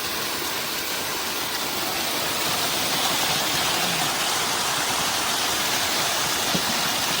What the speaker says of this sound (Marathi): पाणी जोरात आहे ते